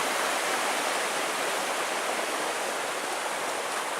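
Clear water rushing steadily in a forest stream along a backpacking trail, a close, loud, unbroken broadband wash with no pauses and no voices.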